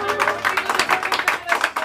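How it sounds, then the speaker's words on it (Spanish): Short, loud burst of applause for a girl's quinceañera celebration with a mariachi band, a quick run of rhythmic hand claps over faint tonal background. "Y ese aplauso muy fuerte."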